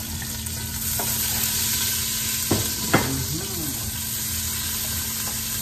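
Onion and tomato frying in a pan for pork menudo, a constant close sizzle with a couple of sharp stirring knocks midway and faint talk over it.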